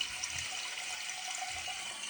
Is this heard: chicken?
no